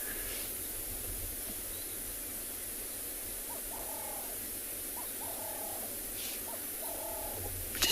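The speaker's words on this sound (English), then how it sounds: "Just listen to all the birds in the background." Birds call at sunrise on a safari at Tswalu in the Kalahari, with repeated short warbling phrases and occasional higher notes, distant and soft over a steady hiss of background noise.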